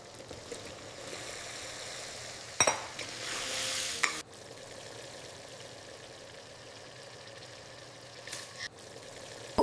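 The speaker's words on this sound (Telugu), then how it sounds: "ఇప్పుడు ముక్కలుగా కోసిన బంగాళాదుంపలను వేయాలి." Cut potatoes go into a sizzling pan of egg curry and get stirred, with a louder clatter and scrape of the spoon early on, then a steady low frying hiss with occasional knocks.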